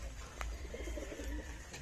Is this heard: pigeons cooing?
yes